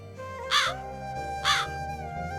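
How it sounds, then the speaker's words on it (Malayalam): Two loud, harsh crow caws spaced about a second apart, standing out over a steady musical backdrop. "ഇനിയിപ്പം കാക്ക കരയും."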